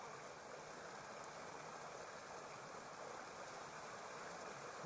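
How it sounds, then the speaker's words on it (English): A small stream spills down two little cascades, giving a steady, even rushing of water at a faint level throughout, with no talking. "This is a nice little one. Two little cascades there."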